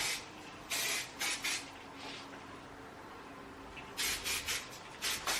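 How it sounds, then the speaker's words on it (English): Cheat hairspray is sprayed onto curled, voluminous 90s-style hair in quick bursts: a group of short hissing spritzes, a quieter stretch, then another cluster of rapid spritzes close by. "I'm going to spray it with the Cheat Hairspray."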